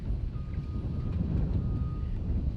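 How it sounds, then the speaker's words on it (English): Steady wind buffeting the microphone outdoors at the SpaceX Starbase launch site in Texas, a continuous low rumbling roar that holds at an even level throughout, with no talking. "it's pretty windy today"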